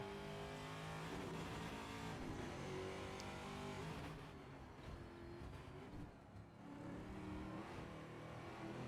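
Onboard engine of a TA2 race car at Road America in a racing game, a loud continuous engine roar that eases off mid-run under braking and then builds again as it accelerates, with no speech.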